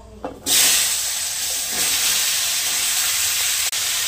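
Dried red chilli and panch phoron are dropped into hot oil and burst into a loud, steady hiss and sizzle that goes on without break after a small clatter at the start.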